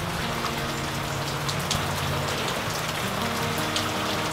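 Steady rain falls on a morning, a dense, even hiss of drops on surfaces with scattered closer patters and a low background hum, no voices.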